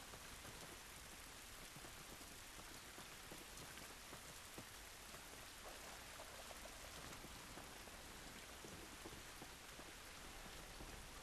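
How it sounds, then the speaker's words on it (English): Steady, dense rain falling outdoors in The Last of Us, a constant even hiss of drops spattering on surfaces with no breaks. "This rain ain't gonna do us any good."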